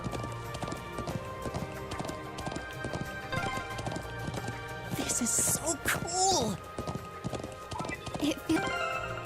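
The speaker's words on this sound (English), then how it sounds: "I'm glad I still remember how to ride a horse." Steady rhythmic clip-clop of horse hooves at a trot in the video game Trails of Cold Steel II, fairly close, with a brief whinny and scattered clatter partway through.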